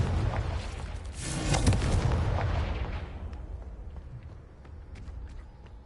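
A Confringo blasting spell explodes in a fantasy video game with a loud, booming burst that swells and then rumbles away into a fading tail. A few faint crackles follow.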